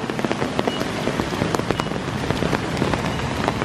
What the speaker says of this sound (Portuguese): Escuta. É chuva.